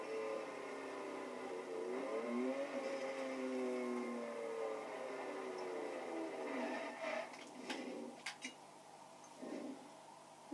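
A Ferrari engine in the racing game Forza Horizon 2 hums at low level, rising and falling as it is driven with a manual clutch, with a few faint clicks near the end.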